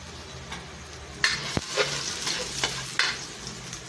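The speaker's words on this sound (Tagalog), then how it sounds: "Mayroon akong 1/4 na kamatis, sibuyas, bawang. Gigisa natin idol, no?" Tomato, onion and garlic sautéing in a hot pan for a fish dish, a steady crackling sizzle with a spatula scraping and stirring at irregular intervals, close and moderately quiet, no talking.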